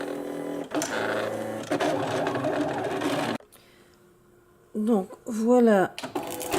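A Silhouette Cameo cutting plotter cuts with a fine blade, giving a dense mechanical whir for about three seconds that then stops. A person speaks briefly afterward.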